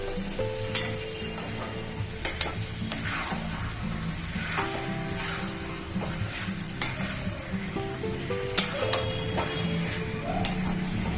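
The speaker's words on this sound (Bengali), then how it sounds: "তেল ছেড়ে দিয়েছি, আর এই চিকেনটা দিয়ে দিচ্ছি, আর এই আলুটাও দিয়ে দিচ্ছি।" Chicken and potato pieces sizzle steadily in hot oil, with a near, continuous frying hiss broken by repeated stirring and scraping of a utensil against the pan.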